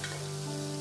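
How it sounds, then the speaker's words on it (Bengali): Chopped onion sizzling in hot oil in a pan, a steady close frying hiss with no speech. "এবার তেলে আমি দিয়ে দিচ্ছি পেঁয়াজ কুচি।"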